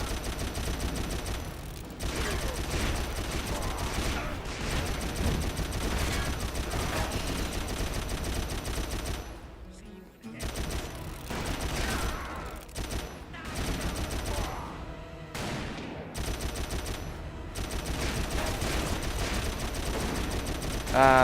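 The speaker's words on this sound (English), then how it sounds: "They have you get the Gatling gun and start firing." A Gatling gun fires in the Western shooter Call of Juarez, with dense, sustained bursts of rapid gunfire and a few short pauses, loud amid game sound effects throughout.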